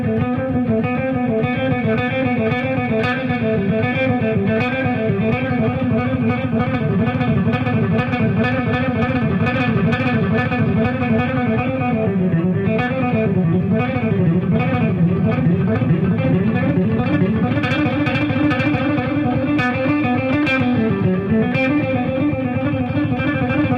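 Distorted electric guitar in a rock-discipline style lesson plays a continuous run of mixed 16th-note exercise fragments, with fast picked lines, bends and vibrato flowing without pause at steady loudness, alone with no talking.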